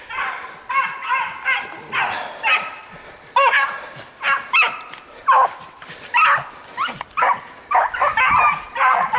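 Dogs at a lure-racing track bark and yip repeatedly in quick, excited bursts, fairly close, with a person speaking in between.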